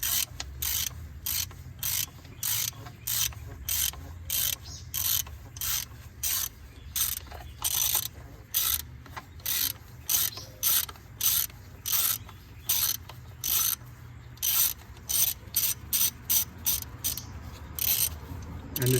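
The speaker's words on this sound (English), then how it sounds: "It has a 10mm nut on there. Use the 10mm socket." A ratchet on a 10mm socket loosening the ignition coil nut on a 2006 Dodge Dakota 4.7L, its pawl clicking in short repeated bursts up close, with low mechanical hum underneath and no talking.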